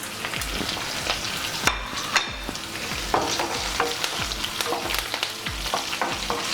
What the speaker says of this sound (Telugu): లో ఫ్లేమ్లో పెట్టుకుని మనం ఫ్రై చేసుకోవాలి.